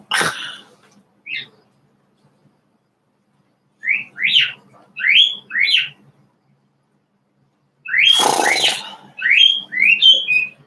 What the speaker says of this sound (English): That bird is telling everyone that Kathy is beautiful.